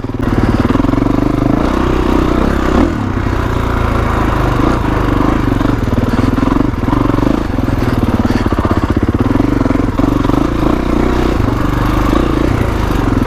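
A 2021 Kawasaki KX450X dirt bike engine drones steadily on a trail ride, a continuous mid-pitched rumble with slight rises and dips as the rider works the clutch over obstacles.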